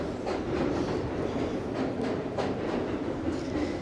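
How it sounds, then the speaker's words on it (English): A New York City number 6 subway train rumbles underground beneath Lower Manhattan, a steady broadband roar with faint rhythmic clacking running throughout, with no talk. "As I hear the number 6 train below me."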